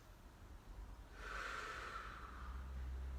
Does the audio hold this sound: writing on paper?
no